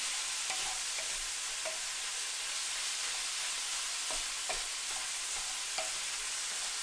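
Ground beef for Korean beef and rice fries in a pan, a continuous soft sizzle with intermittent light scrapes as it is stirred and broken into small crumbles, close and steady with no voices.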